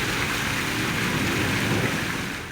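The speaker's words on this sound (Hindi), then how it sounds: "कहीं तेज तो कहीं हल्की बारिश जारी है।" Heavy rain pouring down, a dense continuous hiss of falling water, loud and steady throughout, fading slightly at the end, with no voices.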